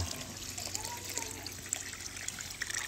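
Water flows into an outdoor pool, making a soft, steady trickle and splash under a low background hum, faint and even throughout.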